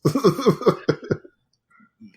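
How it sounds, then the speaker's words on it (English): A few rough, voiced throat-clearing grunts come in quick succession, then a short pause and a couple of faint little follow-up noises. "I'm trying to clear my throat"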